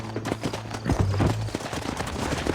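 Horse hooves clip-clopping at a rapid gallop in the Western video game Red Dead Redemption, loud and close, with scattered gunfire-like cracks and brief voices mixed in.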